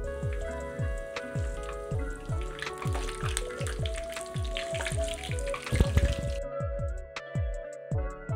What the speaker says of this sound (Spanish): estos ajos los voy a cocinar en aceite que no va a estar muy caliente